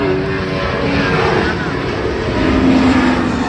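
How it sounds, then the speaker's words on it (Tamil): A fixed-wing aircraft, probably propeller-driven, passes overhead near the Air Force Museum in New Delhi. It makes a steady, loud droning roar that holds for the whole stretch, with a faint murmur of people in the background. "ஃப்ளைட் போயிட்டு இருக்கு."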